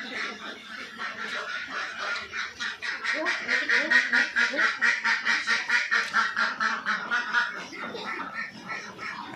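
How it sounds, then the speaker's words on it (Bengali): A flock of Khaki Campbell laying ducks quacks loudly and rapidly in a dense, rhythmic chorus of overlapping calls, rising to a peak midway then easing slightly, close to the listener. "এটা মূলত অরিজিনাল খাকি ক্যাম্বেল হাঁস।"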